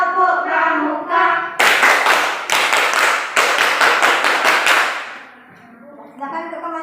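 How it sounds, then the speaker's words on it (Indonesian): A group of scouts in a classroom does a Pramuka rhythmic hand-clap in a quick pattern of bursts and pauses, preceded and followed by voices speaking together. "mari tepuk pramuka"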